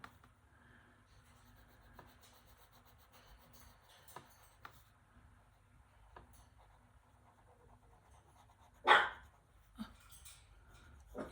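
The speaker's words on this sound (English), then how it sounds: "If you could hear the dog in the background, it sounds like I have an enormous big dog." A small dog in the background of a quiet room lets out one sharp bark and then a softer second one near the end, after several seconds of faint shuffling. No one speaks.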